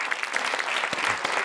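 An audience claps loudly at a New Year comedy evening show, a dense sustained round of applause, close and even throughout.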